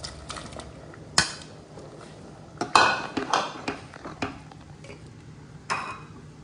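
Tomatoes dropped onto half-cooked onions in a pan for onion-tomato sambar, with scattered metallic clinks and scrapes of a utensil against the pan, some sharp and close, over a quiet background.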